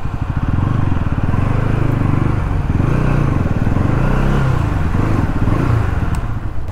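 A Bajaj Pulsar NS200 BS7 motorcycle, damaged in an accident and with its engine warning light on, idles up close with a loud, steady thrum and a faint mechanical clatter throughout.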